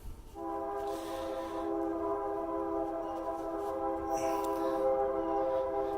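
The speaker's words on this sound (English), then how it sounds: "I got a train in the background." A train horn sounds a long, steady multi-tone blast over the low rumble of rail traffic, persisting throughout at moderate distance.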